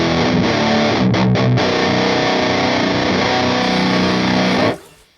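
Heavily distorted metal guitar chugging through an ENGL E412XXL cabinet impulse response, with dense palm-muted riffs and short stops, then a sustained chord that cuts off abruptly near the end, loud and up front.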